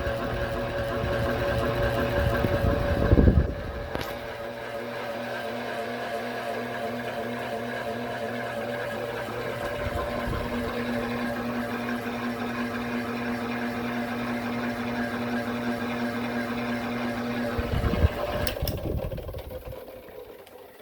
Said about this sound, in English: Takes longer to spin down since the blades are heavier, made of compressed cardboard, and the brackets are actually metal instead of plastic.